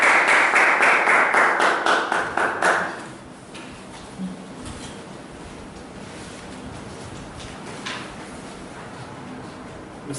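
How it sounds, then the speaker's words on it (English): A workshop audience gives a round of applause, dense and loud for about three seconds before it cuts off, leaving a quiet room with a few small knocks. "Give me a hand in welcoming Mr. Jabbar"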